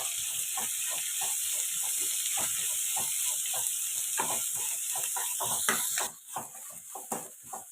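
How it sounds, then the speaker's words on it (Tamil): Chopped onions and green chilies sizzle in hot oil in a pan for semiya upma, a bright steady hiss broken by regular scraping strokes of a spatula. Near the end the stirring pauses and the sizzle briefly drops. "இப்போ வெங்காயம் போட்டுக்கலாம். இதையும் இதோட சேர்த்து வதக்கலாம்."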